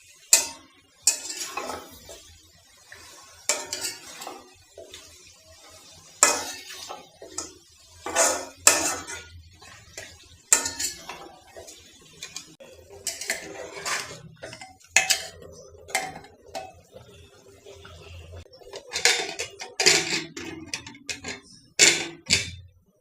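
Goat meat being stirred and browned in a pot, with irregular clinks and scrapes of a metal spoon against the cookware over a long stretch of bursts and pauses, no talking.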